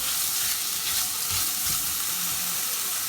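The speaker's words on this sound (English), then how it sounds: "Saute the onions." Finely chopped onion sautéing in a steak pan, a dense, even sizzle holding steady for a few seconds with soft stirring underneath and no talk.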